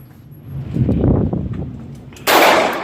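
A single loud gunshot at an outdoor shooting range, fired by a first-time shooter, with a low rumbling swell before it and the sharp crack near the end, close and alone with no talking.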